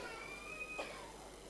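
A faint, high wailing cry rises and holds over a low hum of a large audience hall during a birthday celebration event, distant and thin against the room noise.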